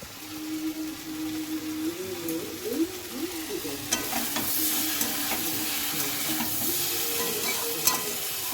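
Leftover dal reheated in a pan and stirred, giving a steady low sizzle with scraping spoon strokes and occasional clinks, fairly close and continuous with no talking.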